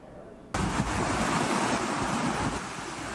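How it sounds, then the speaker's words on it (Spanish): Flooded Upano river rushing and roaring in a loud, continuous wash of turbulent water that bursts in abruptly and stays dense and steady to the end. "El río Upano vuelve a desbordarse"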